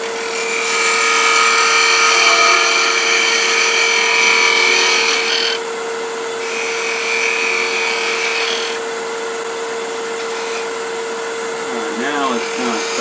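A wood turning gouge cuts a spinning piece on a lathe, producing a steady, loud whirring drone with a constant motor hum and shifting scraping tones as the tool rolls along the surface.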